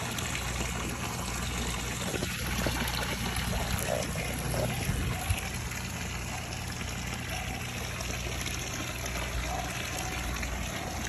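Steady water pouring and splashing into an outdoor pond, aerating it, a continuous rushing trickle with no pauses and no voices.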